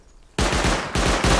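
Rapid automatic gunfire in the video game Rust during an online raid, bursting in suddenly after near silence and continuing as loud, close repeated shots in a steady rhythm.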